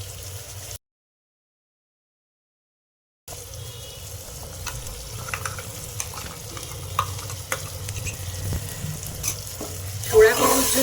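Spices with turmeric fry in a pan with a soft, continuous sizzle and occasional stirring scrapes, broken by a brief silent gap, ending in a louder burst.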